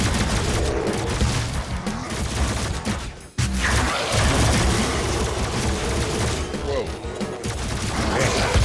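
Dense, continuous bursts of rapid gunfire and booms in the video game DOOM, loud and relentless, with one brief lull midway.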